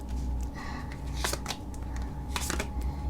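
A deck of tarot cards riffles together in two quick bursts over a low background hum, crisp and close, with no talking.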